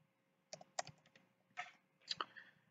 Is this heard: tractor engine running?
no